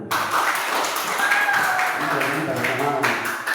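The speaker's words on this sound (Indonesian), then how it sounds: "Tepuk tangan dulu." A class claps hands together in a room during an AI-basics lesson, a dense burst of many hands forming steady close applause for a few seconds, with some voices mixed in underneath.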